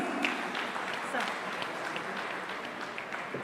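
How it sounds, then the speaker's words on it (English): Audience applause at a temple expo event, steady crackling hand claps from a crowd, moderately distant and fairly quiet, holding evenly throughout. "a big round of applause, please"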